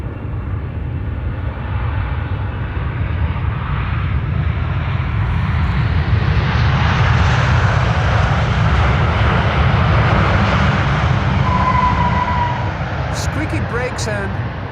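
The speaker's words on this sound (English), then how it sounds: "I can hear an airplane that is passing by overhead" Airplane passing overhead near Schiphol Airport during morning arrivals, a loud broad engine roar that builds and lingers steadily throughout, with a faint tonal whine near the end and talk over it.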